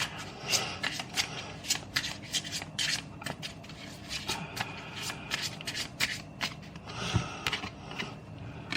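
A deck of cards being shuffled up close, a run of crisp riffling bursts and soft rubbing with short pauses between shuffles, no voices.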